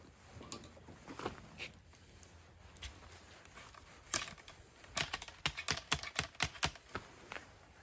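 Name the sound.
wool patch being rammed down a muzzleloader barrel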